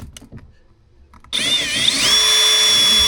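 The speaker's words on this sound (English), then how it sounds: "drilling into wood versus fiberglass is a different size bit." A power drill kicks in abruptly after faint shuffling, whining loudly and steadily, its pitch wavering briefly as the bit bites into fiberglass.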